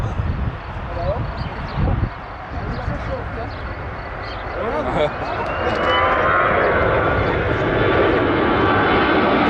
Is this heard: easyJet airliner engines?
yes